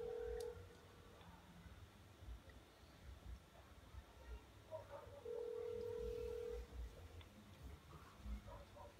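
Phone line during a prank call, a ringback tone that sounds twice, spaced apart, over quiet background murmur and faint clicks.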